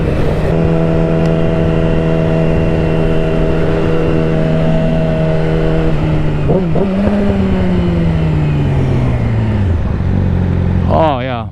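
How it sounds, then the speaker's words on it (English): A Yamaha R6 sport bike engine drones loudly at a steady high pitch, dips and wavers, then sweeps upward in a quick rev near the end, very close and constant throughout. "I need to rev it up more there."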